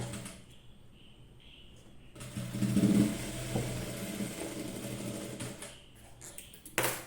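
A sewing machine stitches a neckline, its low whirring motor running steadily for several seconds after a quiet start, fairly close, then stopping with a faint clunk.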